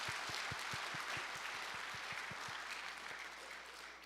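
A church congregation claps to welcome new members at a Sunday morning service, a steady crowd applause filling the hall with distinct rhythmic thumps, tapering slightly toward the end.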